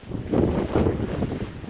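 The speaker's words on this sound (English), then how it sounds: "That's windy and wet" Gusty wind buffets the microphone in low, rumbling bursts over a couple of seconds on a wet, rainy morning hike.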